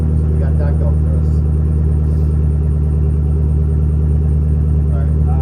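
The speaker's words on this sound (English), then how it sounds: "Exhaust is going right out the back door because thankfully the breeze is coming from the front to the rear of the garage" A car engine idles inside a garage with exhaust venting out the back door, producing a loud, unbroken low rumble that fills the whole stretch without letup.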